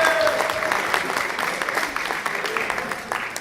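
An audience claps for a finalist at a reading event, dense and steady applause filling the room for a few seconds with no talk over it.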